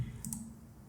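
A single faint computer mouse click sounds once, close and brief, in a quiet room while working in Google Sheets.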